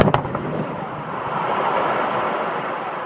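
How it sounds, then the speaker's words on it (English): A quarry blasting explosion at Tunstead Quarry outside Buxton: a sharp crack at the start, then a loud, sustained broadband rumble that rolls on steadily for several seconds with no voices. "You'll be aware of the explosions coming from Tunstead Quarry just outside the town."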